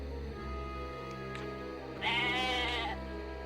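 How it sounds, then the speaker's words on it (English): A goat in the fantasy role-playing game Atelier Ryza, wandering a dragon-infested castle, lets out a single wavering bleat over a steady droning music bed. "There's a goat again. What is this goat doing?"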